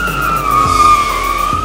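A 2018 Ford Focus RS drifts with its rear tires hydraulically locked, giving a loud, continuous tire squeal that wavers in pitch across the slide while the engine drones steadily underneath.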